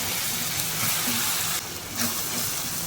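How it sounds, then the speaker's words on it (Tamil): Chicken gravy being stirred in a pan gives a steady close sizzle and frying hiss, with faint scraping from the stirring and a short brighter burst partway through. Nobody speaks. "ஒரு மிக்ஸ் கொடுத்துக்கோங்க."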